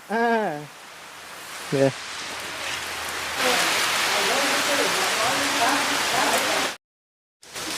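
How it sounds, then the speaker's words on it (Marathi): Heavy rain falls outdoors where trees are being planted, a dense steady hiss of drops. A voice makes brief sounds at the start, and the clip ends in a short silent gap. "आणि पाऊस चालू झाला"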